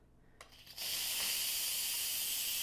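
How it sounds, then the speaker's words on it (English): An Instant Pot's quick-release valve vents steam after a couple of small clicks, erupting into a loud, steady hiss that continues unbroken, close by and without talk. "we are going to just press down on our instant release"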